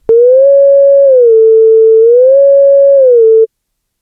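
A pure Surge XT synth tone glides smoothly back and forth between two pitches, a square-wave LFO smoothed by a slew limiter into rounded transitions instead of sudden jumps, loud and alone before cutting off.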